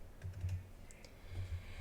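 Typing on a computer keyboard to enter a credit card number while buying tickets online, with soft, rapid keystrokes in two short runs close to the microphone.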